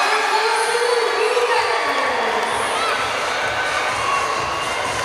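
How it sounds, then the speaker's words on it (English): A large crowd roaring and cheering at a UNTV Volleyball League opening game in Rizal Memorial Coliseum, a sustained dense wall of voices with a commentator talking over it. "Good sized crowd here."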